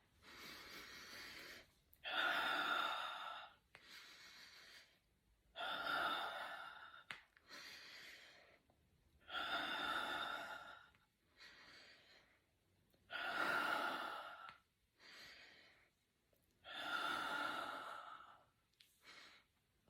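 Slow, deliberate breaths drawn in and let out during a seated face yoga exercise, six long airy breaths spaced evenly with quiet gaps between, close and clear with no talking.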